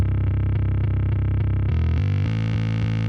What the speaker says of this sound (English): We're adding some distortion and some saturation there, adding frequency content here.